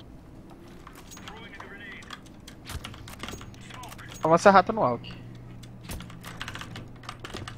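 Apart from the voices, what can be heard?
loud computer keyboard typing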